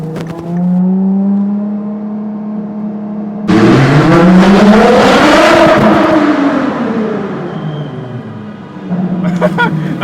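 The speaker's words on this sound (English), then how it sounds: "You can hear that, the beautiful sounds of straight-piped LaFerrari." A straight-piped LaFerrari exhaust at a mall idles with a steady burble, then erupts into a loud, raspy rev that climbs and falls over several seconds before settling back to idle.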